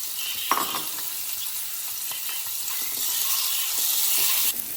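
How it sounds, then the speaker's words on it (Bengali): Duck eggs fry in hot oil with a steady, close sizzle and crackle that swells slightly louder toward the end, with a few brief clinks and stirring scrapes. "তেলটা আমার গরম হয়ে গেছে, আমি ডিমগুলো এবার খুব সুন্দর করে লাল লাল করে ভেজে নেবো"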